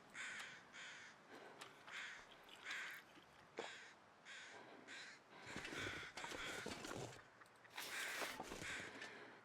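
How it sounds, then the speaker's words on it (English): Crows caw repeatedly in The Long Dark survival game, a series of harsh, rhythmic calls at moderate distance over a faint wintry background, with no speech. "I hear the birds barking."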